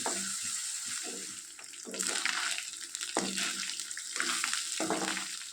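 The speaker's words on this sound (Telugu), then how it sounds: "ఇలా వేయించుకోవడం వల్ల చేపలకు వాసన పోతుందండి" Dried fish frying in a pan as the first step of an eggplant and dry fish curry, a steady close sizzle with stirring and scraping bursts throughout.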